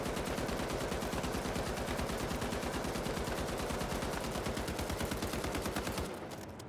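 An M60 machine gun fires a long continuous automatic burst at a 10-meter range in the video game The Finals, with rapid evenly spaced shots that stay loud and close before cutting off near the end.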